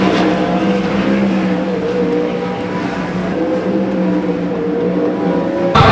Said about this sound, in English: So we're rolling out for the heat race.